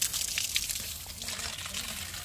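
Water splashes and patters close by as feet are washed outdoors, in a continuous rush of small sloshing bursts.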